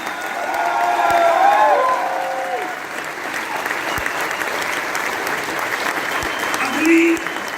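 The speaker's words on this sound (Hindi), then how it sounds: "जोरदार तालियां" At a summit in a Delhi hall, a large audience gives sustained, loud applause for a man being honored, the clapping steady throughout while a voice speaks over it and some cheering rises near the end.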